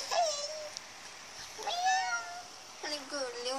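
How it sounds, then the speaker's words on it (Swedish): A one-year-old house cat meows three times, clear rising and falling cries spaced about a second apart in a quiet room, with a person speaking around them. "vi ska få se en katt"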